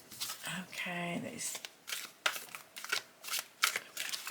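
Glossy tarot deck being side-riffle shuffled by hand, soft quick papery flutters and slides in bursts, close and quiet, with a voice talking over parts of it.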